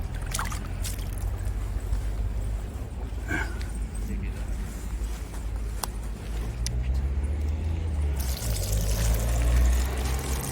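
Large bream thrash and splash as they are hauled from the Nivernais canal, producing a continuous, loud watery churn with scattered sharper splashes and a voice mixed in.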